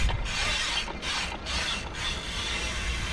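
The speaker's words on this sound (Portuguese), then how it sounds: "Olha o barulho do cubo" Rapid mechanical clicking of a bicycle freewheel hub ratcheting continuously, a dense buzzing tick that swells in short bursts, close and fairly loud.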